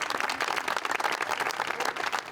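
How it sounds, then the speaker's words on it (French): Applause from a crowd at a charity event, dense steady clapping heard close and moderately loud for a couple of seconds with no talk over it. "Des applaudissements"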